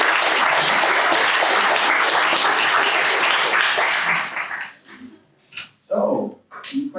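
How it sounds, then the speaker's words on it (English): Loud audience applause at a vegan movement conference talk, a dense burst of clapping for about four seconds that breaks off abruptly into a few scattered claps and faint voices. "give yourself a big round of applause"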